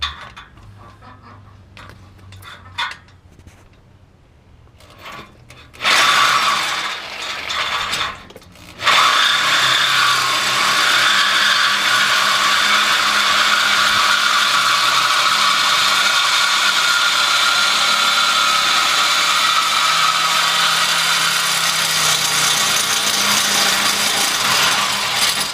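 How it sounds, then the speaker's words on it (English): A power tool cuts through a steel car exhaust pipe while the exhaust drone is being fixed, starting with brief scraping bursts, then a loud, steady, grinding cut that runs continuously for the remaining fifteen-plus seconds, close up with no talking. "I know how to cut pipe."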